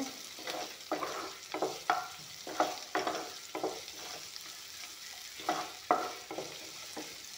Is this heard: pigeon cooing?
no